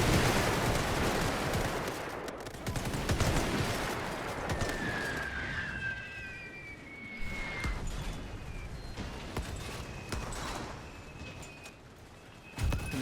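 A line of infantry fires a rifle volley in The Great War 6.0, a crackling burst of overlapping shots at the start that thins into scattered gunfire amid battle noise and faint whistling tones.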